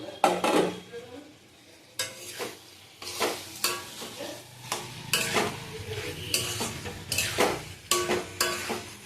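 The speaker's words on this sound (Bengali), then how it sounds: "এই যে পেঁপেগুলি দিয়ে দিচ্ছি, পেঁপে আলু সব দিয়ে দিলাম।" Boiled papaya and potatoes tipped into a hot frying pan with fried ingredients for a curry, giving bursts of sizzling and repeated clanks and scrapes of a stirring utensil against the pan, close and fairly loud.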